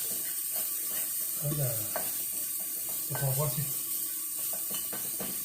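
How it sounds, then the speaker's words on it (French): Garlic frying in French olive oil in a pan, a continuous close sizzle broken by a few scraping stirs and light utensil clicks. "je vais laisser un petit peu mon ail blondir un petit peu"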